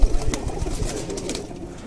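Breeder pigeons coo softly in a loft, low murmuring calls rising and falling against a busy background hum.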